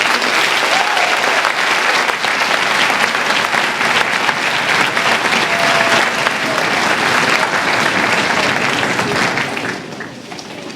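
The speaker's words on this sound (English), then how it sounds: "So how about a round of applause?" Sustained applause from a school audience at a fourth grade band concert fills the room, dense and steady clapping that holds loud throughout before tapering slightly near the end.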